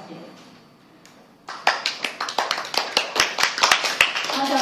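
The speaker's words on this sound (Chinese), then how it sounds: "大家不用客气，你的掌声，我们再热烈掌声。" Audience applause breaks out at a press conference for an anti-nuclear campaign event: after a quiet opening, dense, steady clapping from a crowd fills the rest of the moment, close and loud.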